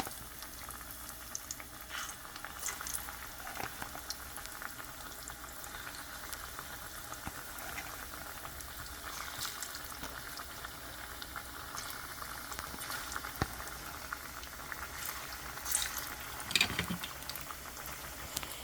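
Plantain slices frying in hot oil give a steady, quiet sizzle and bubbling that runs throughout, with a few brief louder crackles and pops.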